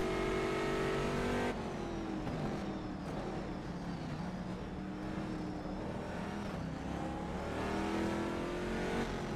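Corvette C6.R GT2 race car engine in the rFactor 2 racing simulator, a continuous loud V8 roar that revs up and down through gear changes and corner exits, heard close with no talking.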